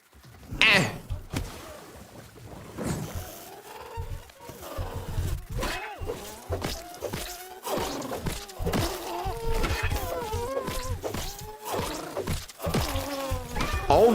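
Bees buzzing in the video game Grounded during combat, rapid insect drones and whines rising and falling amid sharp hits and game effects, fairly loud and continuous with a voice talking over it.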